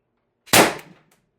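Single sharp crack of an Umarex TR50 air rifle on high-pressure air with an 8-inch sniper barrel extension, a loud isolated report with a short decaying tail.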